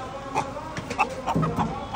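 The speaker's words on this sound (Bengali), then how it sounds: "সুন্দর সুন্দর কিছু মুরগি কিন্তু দেখতে পেলাম।" White-crested chickens cluck in a few short, soft bursts close by, with low background noise and faint human murmuring.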